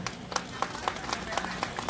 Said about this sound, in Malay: beri tepukan gemuruh kepada beliau